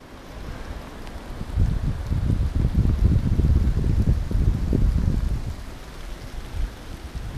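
Heavy rain pours down around a canoeist out on a bay, a dense steady wash that builds and grows loudest through the middle before easing slightly, with no voices.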